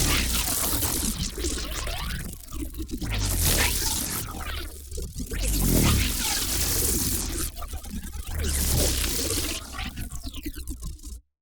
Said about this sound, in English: This is more of an electric kind of pass-by whoosh sound.